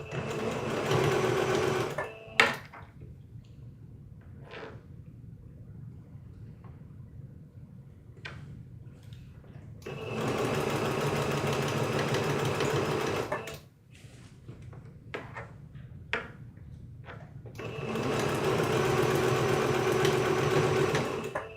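A sewing machine runs in three bursts of rapid, even stitching, each a few seconds long, separated by quiet gaps that hold soft clicks and handling knocks. The machine is close and clear, with no talking.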